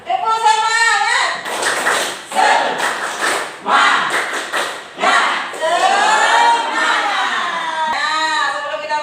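Schoolchildren in an Indonesian classroom perform a rhythmic spirit clap, bursts of group clapping in patterned beats alternating with loud chanting voices and a teacher speaking.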